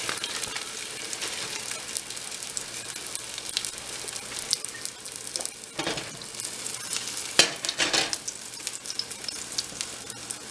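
A green onion cake frying in a pan, a steady close sizzle with faint crackles and a few sharper pops.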